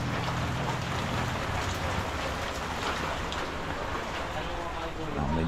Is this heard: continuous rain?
yes